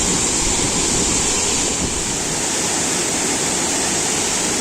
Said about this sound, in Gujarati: કેટલું સુંદર મજાનો પાણીનો ધોધ અહીં પસાર થઈ રહ્યો છે